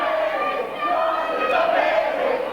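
A wrestling crowd reacts against Jason Cross during an NWA Wildside match, a loud, sustained mass of voices jeering and shouting throughout.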